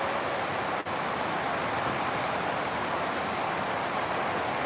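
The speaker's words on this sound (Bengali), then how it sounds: "আমাদের এখানে বৃষ্টি হচ্ছে অনেক" Heavy rain falling in Dhaka on a windless day, a steady broadband hiss of drops that holds evenly throughout, with one brief dip near the start.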